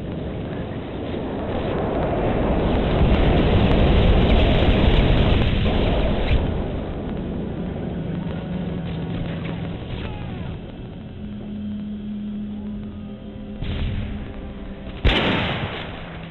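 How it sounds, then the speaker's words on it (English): A called-in bomber airstrike in Call of Duty: Modern Warfare 3 sets off a long, heavy rumble of explosions that swells and then fades, followed by scattered gunfire and a sharp blast near the end. "Nightwalk, you are clear for bomber on grid."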